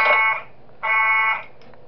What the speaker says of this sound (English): so I have to use the alarm.